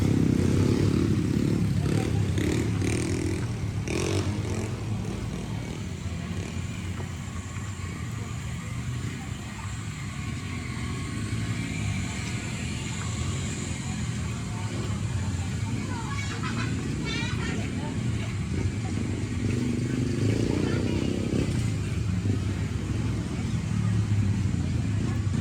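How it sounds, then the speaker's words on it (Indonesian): Small motorcycles pass along a beach access road at Pangandaran, their engines swelling and fading near and far under a continuous outdoor background, with people talking throughout. "ada juga motor-motor kecil yang lewat sini"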